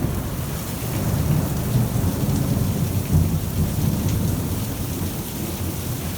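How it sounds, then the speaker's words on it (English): Heavy rain from Tropical Storm Imelda pours steadily and loudly while thunder rumbles low underneath, a dense, unbroken downpour throughout. "It was raining like crazy. There was thunder and there was lightning and it was going nonstop and it was pouring."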